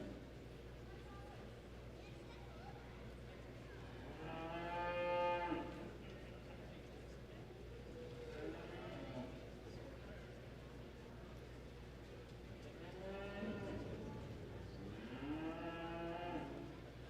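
Cattle at a junior beef show at a provincial exhibition in Fredericton, New Brunswick, give several long, loud moos. The calls rise and fall over an announcer's voice on a public address system.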